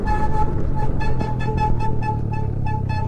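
Sur-Ron electric dirt bike ridden through snow, a steady, loud whining drone with a strong tonal hum and rhythmic pulsing, close up and continuous throughout.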